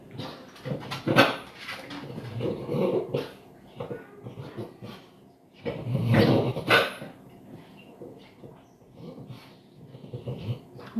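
A dog whimpers and lets out short barks and snorty bursts in a couple of loud clusters, with quieter whines in between, close by and without speech.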